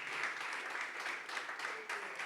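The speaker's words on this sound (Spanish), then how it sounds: "Alguien déle un fuerte aplauso a Dios." A church congregation applauds steadily throughout, a dense continuous clatter of many hands at moderate loudness with no talk over it.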